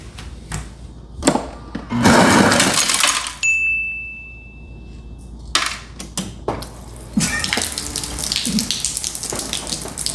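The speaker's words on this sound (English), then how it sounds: "it's a typical water, an ice dispenser" Refrigerator water and ice dispenser running in a kitchen, water gushing in bursts broken by clattering ice and short mechanical whirs, loud and close.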